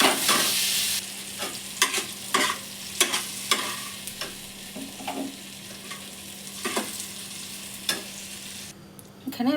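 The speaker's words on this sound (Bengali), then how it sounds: "বেশি ভাজবো না, হালকা করে ভেজে এটাকে তুলে রাখবো" Marinated chicken fries in hot oil with a continuous sizzle, while a utensil scrapes and stirs the pan in repeated sharp strokes, close up and with no talking.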